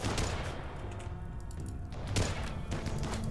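Rapid volleys of gunfire from snipers and pistols in the RimWorld video game, dense overlapping shots and thuds with a few heavier booms standing out, loud and continuous with no talking.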